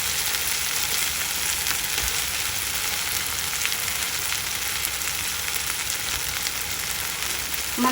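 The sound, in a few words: brinjal frying in a pan until soft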